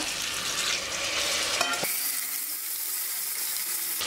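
Loud sizzling as chopped tomatoes hit hot oil in a cooker for chicken biryani, a dense hiss that abruptly changes tone as they drop in, then a steady softer frying continues close by.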